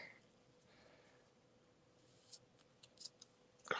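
Scissors snip through craft paper from a Paper Pumpkin kit in a few quick, faint cuts near the end, with a quiet room otherwise still.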